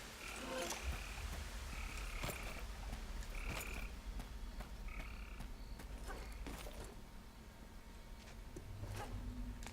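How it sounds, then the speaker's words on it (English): Frogs croak in repeated short, bright calls against a constant low rumble in Tomb Raider: Anniversary's Lost Valley, the calls spaced irregularly and fairly close throughout. "I was hearing frogs there for a second."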